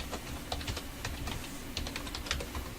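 Someone types on a computer keyboard, entering an email address and password: quick, irregular clicks close up, with no voices.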